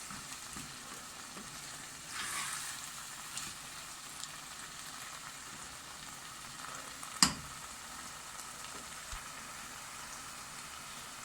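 Vegetables and chicken for a vegetable-chicken orzo pilaf sautéing in a pan, with a faint continuous sizzle, a brief swell of stirring and one sharp clack of a utensil against the pan.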